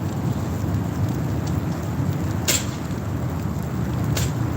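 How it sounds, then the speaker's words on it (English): Steady rain falls outside, a dense, constant hiss and patter heard close, with a couple of brief sharper spatters standing out. "it's raining outside. So, fucking rain."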